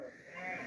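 Sheep and lambs bleat in a ventilated barn during cold weather, a brief, faint wavering bleat heard against a soft background hum.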